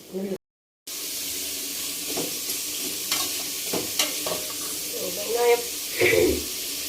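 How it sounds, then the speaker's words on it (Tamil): Sliced onions with salt sautéing in a pan in a home kitchen, a continuous close sizzle with occasional stirring scrapes and a few utensil knocks after a brief silence at the start. "இப்போ வந்து வெங்காயம் போட்டாச்சு. இப்போ 2 உப்பு போடுங்க, அப்போ டக்குன்னு வதங்கும்."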